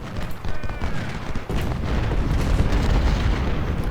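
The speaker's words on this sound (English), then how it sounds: "Guns now focus on Law." Artillery fire in the Civil War strategy game Ultimate General: Civil War, heard as a burst of heavy booms and rumbling cannon blasts with battle noise that grows denser after the first second.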